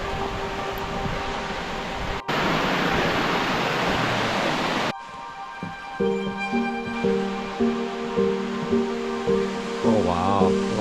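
A waterfall heard on a hike, loud broadband rushing water filling the first five seconds, then giving way to quieter outdoor sound with tonal hums and some voices.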